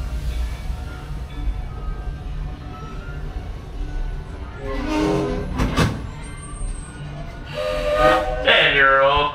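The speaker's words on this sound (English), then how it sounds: "as we roll into the train station, please remain seated and fully inside the train until we come to a full and complete stop" The Magic Kingdom Railroad train at Disney World rolls into its station, a low rumble of wheels building toward the end, with a brief high squeal partway through.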